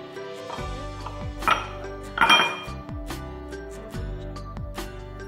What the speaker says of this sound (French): Dans un bol comme ça, je vais mélanger de la farine avec de farine de riz.